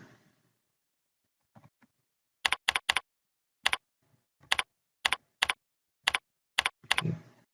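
Computer keyboard keys tapped while entering network configuration commands on a Cisco switch, about a dozen crisp separate clicks in an uneven rhythm, close and clear with no talking.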